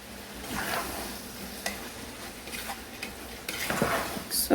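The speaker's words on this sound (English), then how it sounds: "So just stir this and I'll add more." Fried rice is stirred in a hot pan, a soft, steady sizzle with intermittent scraping and clinking strokes of a utensil, close and fairly quiet.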